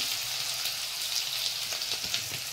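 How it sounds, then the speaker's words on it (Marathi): Masala frying in hot oil with spluttering mustard seeds for aloo bread patties makes a dense, close sizzle with scattered crackling pops, steady and alone without any voice. "हा तेलामध्ये आहे ना चांगला फ्राय करून घ्यायचा"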